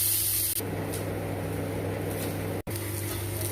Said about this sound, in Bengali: এবার এটাকে ভেজে নেবো সবজিটাকে